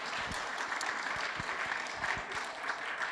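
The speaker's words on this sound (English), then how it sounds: "round of applause" A lecture audience of medical practitioners claps in a steady, dense round of applause that holds evenly for a few seconds, close and lively with no talking over it.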